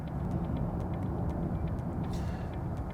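Steady cabin noise inside a Nissan Ariya electric car cruising at 90 km/h, a continuous low road and wind rumble with no talk, even in level throughout.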